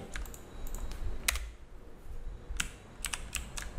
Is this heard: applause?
no